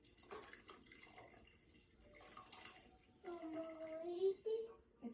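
Liquid gulps and glugs as a nearly empty container is poured into a Pampered Chef Quick Cooker for chicken noodle soup, giving a few quiet, uneven burbling gurgles late in the stretch, with soft voices and kitchen sounds around them.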